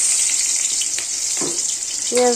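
Onions fry in a pan on a second stove, a bright steady sizzle with a few clinks and a short tonal squeak near the end, no speech.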